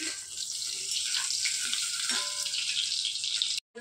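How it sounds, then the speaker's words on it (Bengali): Potatoes fry in oil in a home kitchen while a mutton curry is being made. A steady, fairly soft sizzling hiss runs throughout and cuts out briefly near the end. "তো এবার আলুগুলোকে ভেজে নিচ্ছি।"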